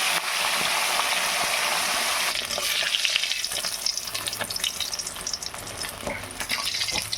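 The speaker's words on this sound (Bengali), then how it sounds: "তেল গরম হয়ে গেছে, এবারে আমি মাছগুলো একটা করে ছেড়ে দেবো" Katla fish pieces crackle and sizzle loudly in hot oil, a dense, steady frying hiss that runs close and unbroken the whole time, with no voices.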